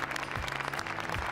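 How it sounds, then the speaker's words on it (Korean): Standing ovation after a film screening at the Cannes premiere of Parasite: steady, dense clapping from a large audience, continuous and fairly distant, with no voices standing out. "영화가 끝나고 기립박수가 이어지는데"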